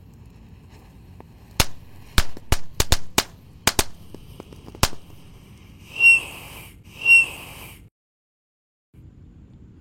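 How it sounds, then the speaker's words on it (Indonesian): A tank-style firecracker set off outdoors in the late afternoon: a rapid string of sharp, loud cracks and pops, then two brief bright hissing, whistling bursts before it falls quiet. "Di sini ada mercon tank tor. Kita nyalakan sore ini bosku."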